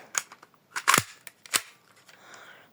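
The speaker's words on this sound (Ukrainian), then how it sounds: "Зараз ми спробуємо вистрілити." A toy Glock 18 pistol model firing a rapid string of sharp cap-gun-like cracks, several loud snaps in irregular quick succession at close range, fading into quieter clicks.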